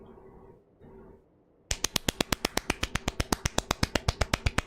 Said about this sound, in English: you get a golf clap.